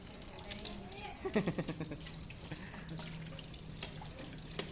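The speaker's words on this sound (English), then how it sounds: "You love washing plates?" Plates being washed under running water in a home sink, a soft steady trickle with brief clinks and splashes, while people talk nearby.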